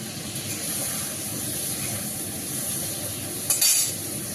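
Ground spice paste fries in a hot pan with a steady, soft sizzling hiss, and a brief scrape of stirring sounds near the end.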